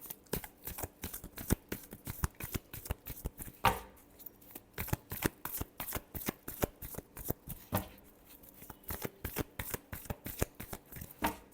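A deck of tarot cards is shuffled close up in a fast, steady rhythm of crisp slaps and flutters, with two brief pauses. No one speaks.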